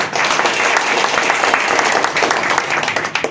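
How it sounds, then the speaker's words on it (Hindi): Sustained applause from a crowd at an outdoor award ceremony, many hands clapping densely and evenly with a few sharper claps standing out throughout. "जोरदार ताली बजा।"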